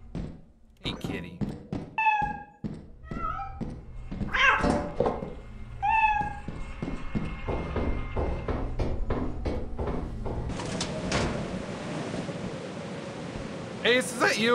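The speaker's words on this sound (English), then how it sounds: "I hear a cat." A cat meows repeatedly in the video game Lethal Company, several close drawn-out calls amid thumps and footsteps, followed by a stretch of rumbling noise.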